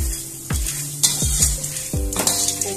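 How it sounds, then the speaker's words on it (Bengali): Whole corn kernels stirred in hot oil with dried chili, sizzling steadily while a metal utensil scrapes and knocks against the pan in several sharp clanks, close and fairly loud. "এবার এই পুরো ভুট্টাটা দিয়ে দিলাম। বন্ধুরা এরকম প্রথমে একবার নাড়িয়ে চাড়িয়ে দিচ্ছি।"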